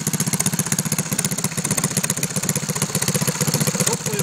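A small single-cylinder engine on a Baja Doodlebug Dirtbug mini bike runs steadily at a fast idle, a loud, close, rapid rhythmic putter with metallic clatter and no voices.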